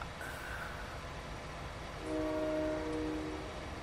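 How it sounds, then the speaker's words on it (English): Train whistle in the Farming Simulator 19 video game, a distant, fairly faint tonal blast of about a second rising out of steady low background noise, with no talking. "I just heard a train whistle."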